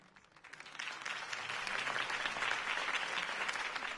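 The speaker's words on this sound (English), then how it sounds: "could have heard that applause" Steady applause from a large crowd in Batman: The Telltale Series swells within the first half second and holds at full strength, dense clapping with no voices standing out.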